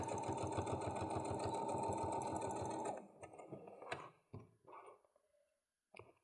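A sewing machine back stitches over a seam allowance while making a makeup bag, a loud, steady close-up buzzing run of rapid stitches that stops after about three seconds, followed by scattered clicks and handling noises.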